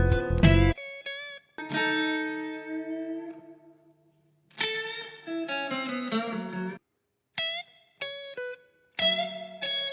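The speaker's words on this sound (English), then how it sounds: "So you can hear what a reverb does to a nice guitar solo." An electric guitar solo played through spring and plate reverb effects on iOS, sustained bent notes and short phrases ringing out with lush reverberant tails between clean gaps of silence.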